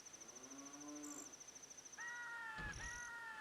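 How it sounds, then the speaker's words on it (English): A cow moos twice, a low drawn-out call followed by a second, brighter one, heard at a distance behind a steady high insect-like whine and faint background noise. "Why can I hear a fucking cow?"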